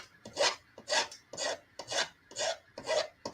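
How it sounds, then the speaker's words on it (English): Hand file rasping burrs off cut metal tubing, seven steady back-and-forth strokes at an even rhythm, close and fairly quiet with no talking. "you got to do some filing. Because there's burrs."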